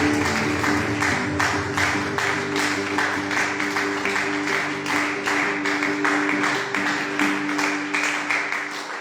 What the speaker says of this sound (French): Applaudis-le ce matin